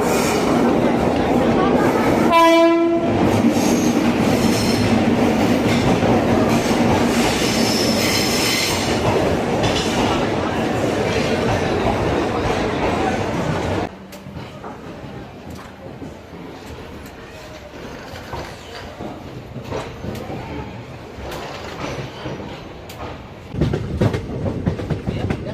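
The Kaveri Express at the Mysuru Junction platform rumbles loudly and steadily, with a brief wheel squeal near the start. It then gives way to quieter station ambience with distant voices and a few later clanks.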